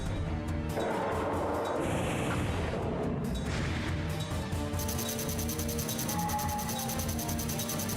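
Fire Dragon spell cast in Eternal Ring, a dense roaring blast with crashing impacts that swells loudly and then settles into a ringing, shimmering tail.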